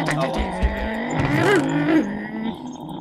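Car engines revving and tires squealing in the background of a game session, with varying pitch sweeps under people talking.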